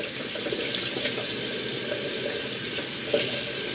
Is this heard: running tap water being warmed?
yes